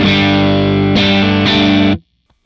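A Telecaster on its middle pickup position plays through an HX Stomp amp model with a clean, dry tone: a sustained chord, then two restruck chords that ring together and cut off abruptly, with no voice over it.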